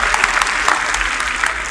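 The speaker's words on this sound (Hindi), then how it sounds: "उनके लिए कल तालियां बजा दीजिए।" Audience at a Hindi comic poetry gathering applauding a poet, a dense, steady wash of many hands clapping together, loud and close.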